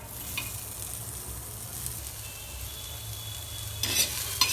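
Steady sizzling of onion frying in a pan for kharda chicken, with a couple of sharper scraping clinks near the end; no voices.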